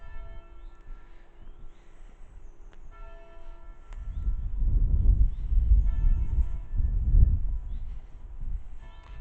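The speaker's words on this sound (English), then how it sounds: "And the bell striking the hour." The church bell of St Edburga's, Leigh, in Worcestershire, strikes eleven o'clock, its resonant tolls carrying outdoors beneath a low rumbling wash of wind and ambient noise.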